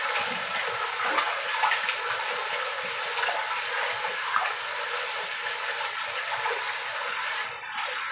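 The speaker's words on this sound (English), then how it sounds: "I'm going to let this fill up until I get to 2 gallons of water in this pot." Water runs into a pot of dissolved salt brine, filling toward two gallons for preserving freshly harvested cauliflower and broccoli; a steady, fairly quiet rushing and splashing continues throughout with no talk.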